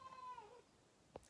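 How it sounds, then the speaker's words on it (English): A house cat meows faintly in the background of a quiet room, one drawn-out meow followed by a short chirp-like call. "And that's my cat in the background."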